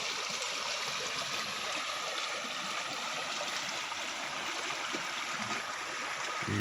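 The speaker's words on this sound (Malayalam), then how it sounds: "ഇത് കാട്ടിൽ നിന്ന് വരുന്ന വെള്ളമാണ്." Water runs down from a forest after two days of very heavy rain, flowing on toward a river as a steady, even rush that continues unchanged throughout, fairly soft and with no voices.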